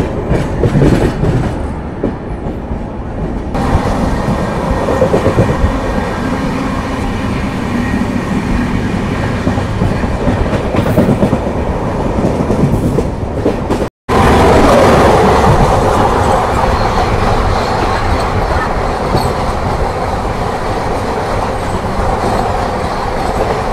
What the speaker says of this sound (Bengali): Jalpaiguri road Sealdah Humsafar express.